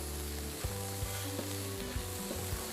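Food sizzles and fries steadily in a pan, a constant crackling hiss with occasional soft stirring bumps and a low hum underneath, close and unaccompanied by voices.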